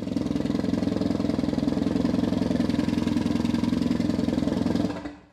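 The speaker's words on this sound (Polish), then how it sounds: "Silnik na razie pracuje na mapie startowej." Freshly started car engine idling on its startup map, a steady, loud, close rumble with an even rhythmic throb that cuts off abruptly near the end.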